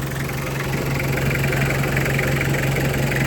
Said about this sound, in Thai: คันนี้รับรองเลยว่าเครื่องดี ระบบน้ำดีนะครับ นิ่งๆเลยครับ